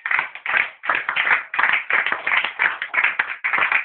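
A church congregation claps together in steady rhythmic applause during worship, a dense continuous patter of many hands with regular accents, loud and close, no talking over it.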